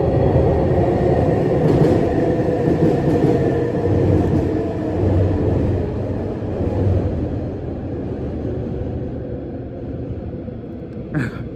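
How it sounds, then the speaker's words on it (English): A SkyTrain rumbles past close by, a sustained, loud low rolling roar with faint rail clatter that slowly eases over several seconds, no one talking. "I can't have an office or a studio"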